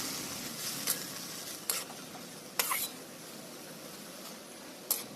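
Dheki greens mixed with ground mustard-sesame spice paste get stirred in a pan, a faint background sizzle broken by a few distinct scraping clinks of the spatula against the pan.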